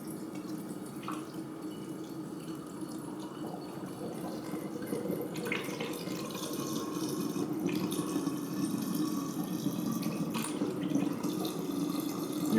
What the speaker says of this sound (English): you're just going to carefully pour the developer into the glass bottle